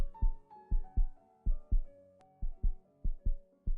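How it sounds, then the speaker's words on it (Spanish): A thudding heartbeat sound effect, steady lub-dub pairs of low, close beats repeating with a faint tonal hum beneath and no voices. "el infernal latido del corazón iba en aumento"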